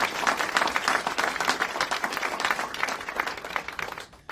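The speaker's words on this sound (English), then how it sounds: "round of applause" Dense crowd applause at an ICE field office event in Atlanta, a sustained wash of many hands clapping together, fading out near the end.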